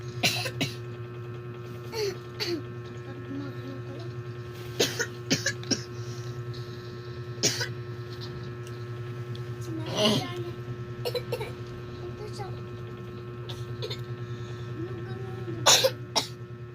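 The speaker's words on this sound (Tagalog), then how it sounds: "hindi ka umuubo?" A person coughs and clears their throat in short, scattered bursts over a steady electrical hum. Brief bits of speech come between the coughs.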